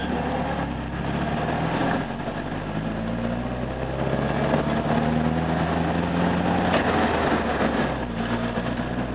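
An MGB's engine drones steadily from inside the cabin, its pitch shifting as revs climb after a downshift while the car slows on engine braking.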